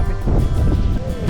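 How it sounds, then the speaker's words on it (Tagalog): Strong wind gusts over a grassy mountain trail on a day hike up Mt. Mariglem in Cabangan, Zambales, a loud, steady buffeting roar that rushes and swells against the microphone throughout. "Lakas ang hangin mga tropa."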